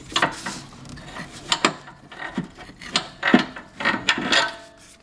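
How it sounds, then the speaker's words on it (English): Old left motor mount being worked out of a Porsche 911 996 Turbo: a series of close scraping, rubbing and knocking bursts of metal and rubber, irregular and effortful, with no talking. "So now I'll show you how difficult it is to remove the motor mount."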